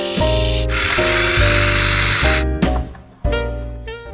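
A sewing machine runs in loud, steady bursts while hemming the lining of a fabric Christmas stocking, a close mechanical whir with brief stops and restarts in between.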